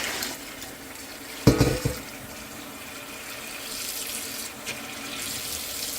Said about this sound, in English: Alright, I got all 3 sinks running.